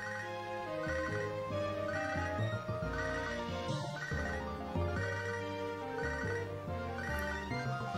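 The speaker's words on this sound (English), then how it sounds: "Shut up, phone. I don't want to know," A phone's ringtone plays a steady, repeating melodic tune, loud and continuous, with no talking over it.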